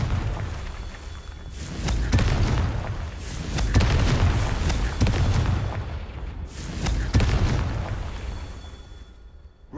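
A Confringo fire spell explodes in the fantasy game Hogwarts Legacy, with several loud booming blasts and crackling bursts rolling over nearly ten seconds and no one talking.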